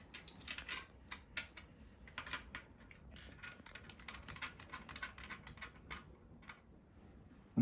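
Noctua NH-D15 CPU cooler mounting screws being tightened onto a processor, a string of close, sharp clicks and ratcheting ticks in uneven bursts, ending with a louder knock.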